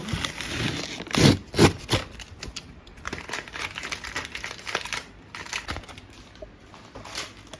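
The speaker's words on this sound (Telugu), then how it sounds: "టేప్ అంతా దీన్ని పీకేసరికి నాకు టైం పట్టింది" Packing tape torn and peeled off a parcel during an unboxing, a few louder crinkling rips early on followed by softer ongoing crackling and rustling close by.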